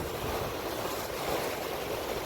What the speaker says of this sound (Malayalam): ഇതാണ് നമ്മുടെ തൃക്കുന്നപ്പുഴ ബീച്ച് കേട്ടോ